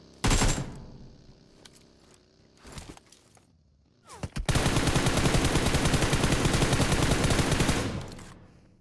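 Gunfire in the mobile battle royale game BGMI: a few sharp shots at the start, scattered single shots, then a loud sustained burst of rapid automatic fire lasting about three seconds, with no talk.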